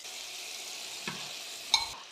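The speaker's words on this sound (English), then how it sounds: "I'm just going to add 1 piece of chicken in to see if we get the sizzle" Steady, gentle sizzling of chicken frying in a pan, with a soft clunk partway through and a sharper clatter near the end.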